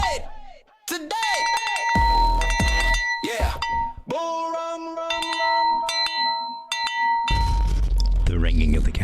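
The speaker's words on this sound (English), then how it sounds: "The ringing of the cowbell is complete." Sharp metallic clanks of a cowbell ring out repeatedly with lingering tones, loud and close, mixed with other clinks and some crowd noise.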